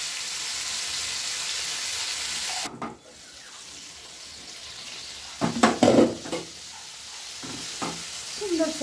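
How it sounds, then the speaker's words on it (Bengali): Potatoes and pointed gourd sizzle in oil in a wok for a prawn curry, with a steady frying hiss and then a burst of scraping stirs and clinks partway through, fairly close. "পটল আলু ভাজা হয়ে গেল"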